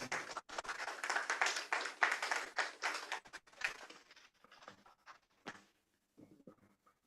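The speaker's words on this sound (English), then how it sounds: "Let's invite him with a clap." An audience at a Ghana Geospatial Society induction ceremony applauds, a thick run of clapping that thins into scattered claps and fades out.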